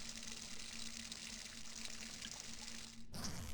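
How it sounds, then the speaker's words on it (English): Urinating into a toilet in the video game Cloverpit, a steady gushing stream of water into a bowl for about three seconds that cuts off abruptly, with no voice over it. "you can always use this toilet. You can either take a leak."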